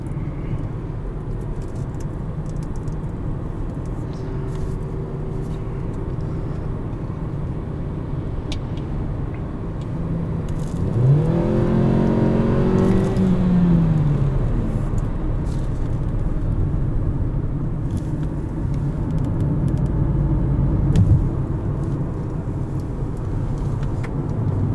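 A Kia Optima turbo sedan being driven, its engine a steady low drone with rising and falling harmonic whine as it accelerates midway, road noise constant throughout and no voices.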